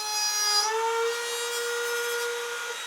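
A router-style jig cutting slots into the corners of a plywood cabinet: a sustained high whine with bright tonal harmonics, slight pitch drop early as the cutter meets the wood, then steady and fairly loud, no voices.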